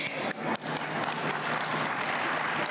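Congress delegates break into applause over gender parity, a few sharp claps opening into a thick, steady wash of clapping from a large crowd.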